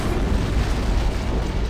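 Antimatter charge exploding aboard a ship in the Halo CE game, a sustained heavy rumbling blast filling the whole clip, loud and dense with no voices.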